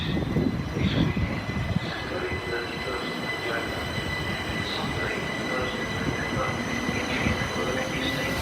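Class 377 electric train pulling away at Gatwick Airport station on the Brighton Main Line, a steady broadband rumble that holds at an even level, with aircraft noise nearby in the background.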